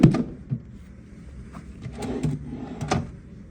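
A drawer in a luxury room at the Sofitel Kuala Lumpur Damansara slides and knocks shut, with a soft bump at the start and a few light clacks and rattles afterward, close and fairly quiet.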